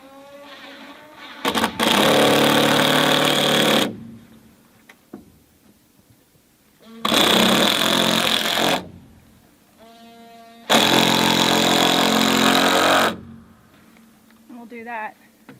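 A power driver screws fascia boards onto a garden shed in three long, loud whirring bursts, each lasting a couple of seconds, separated by quieter gaps with faint clicks and handling noise.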